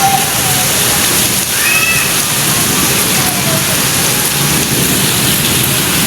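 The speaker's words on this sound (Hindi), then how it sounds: "इतनी तेज़ बारिश हो रही है" Heavy rain pouring down in a dense, constant roar, close and loud, with faint distant thunder and a brief high-pitched call in the background.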